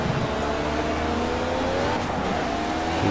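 Race car engine in the Project Cars video game on PS4, droning steadily and loud on a circuit's back straight under power, a continuous close engine roar with rising pitch and no talk.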